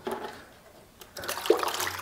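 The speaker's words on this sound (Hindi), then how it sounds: "ये डाला मैंने यहाँ पे एक जग पानी इसके अंदर।" A jug of water is poured over a Redmi 10 Prime phone, giving a faint splash, a pause, then a fuller gush of running water with a sharp splatter.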